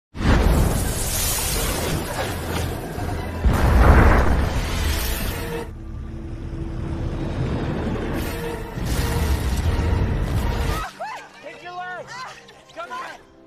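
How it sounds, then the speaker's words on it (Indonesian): A gas tank blowing up on a speedboat in a film: a loud, broad blast with rumbling debris and a second surge, followed by a fading roar and then talk over a quieter ending. "tiba-tiba mesin speedboatnya menyala kembali dan tabung gas pun meledak"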